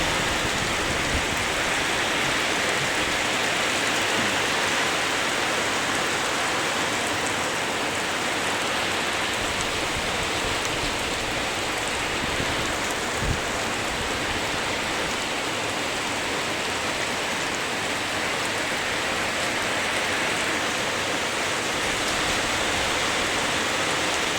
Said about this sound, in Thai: โอ้ตกหนักมากพี่น้องนะ